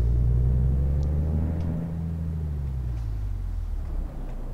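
A big truck engine in Euro Truck Simulator 2 rumbles low and steady throughout, its pitch sliding slowly downward as it runs, with no talk over it.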